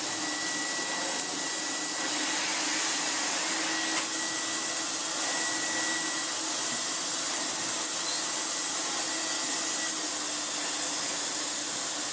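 Electrolux Dolphin Silver Electronic 1000 Z2225 vacuum cleaner running on full power with no filter fitted, a loud, steady motor whine with a rushing airflow hiss and no pauses.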